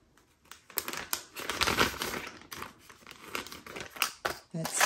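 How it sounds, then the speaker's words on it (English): A plastic Ziploc bag from a diamond painting craft mail package is crinkled and handled up close, with irregular crackling bursts of varying loudness and no voice. "Ziploc bag"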